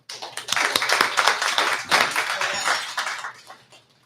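A studio audience claps during a live broadcast of a radio talk show, a dense burst of applause that swells through most of the stretch and then thins out toward the end.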